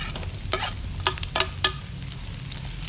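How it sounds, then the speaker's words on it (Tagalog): Red and white onions sautéing in a pan for dinuguan, a constant soft sizzle broken by several sharp scraping stirs of a utensil against the pan. "Then next na ilalagay ko yung sibuyas."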